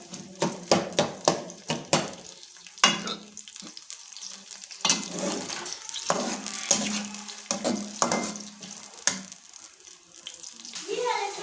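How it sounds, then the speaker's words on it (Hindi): Onions fry in a pan until golden, a crackling sizzle broken by stirring and scraping, heard close with people talking over it at times. "प्याज हम गोल्डन सुनहरी कर लेंगे"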